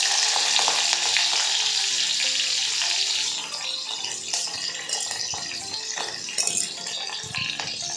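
Green chillies drop into hot oil with garlic that is browning. A loud, busy sizzle first, then a softer frying crackle with light clinks and stirring.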